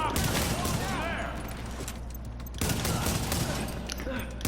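Enemy blind fire from behind cover in The Division, bursts of rapid gunfire crackling in volleys with a short lull in the middle, loud and close, with a voice talking underneath.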